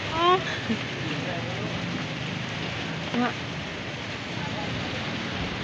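Light drizzle patters steadily as a soft, even hiss, with a few faint birds chirping in the distance.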